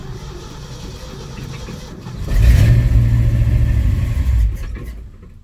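A 1968 Ford F100 with a swapped 360 engine catches and runs, a low rumbling idle rising loudly for about two seconds after a quieter lead-in, then dropping off.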